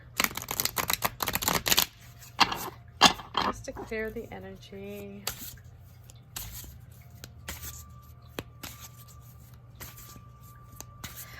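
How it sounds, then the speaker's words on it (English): Tarot cards from a Wise Dog deck being shuffled by hand, a run of crisp riffling bursts at the start and scattered softer card rubs later, close up, with a person speaking briefly between them. "this Wise Dog deck shuffles like a freaking dream"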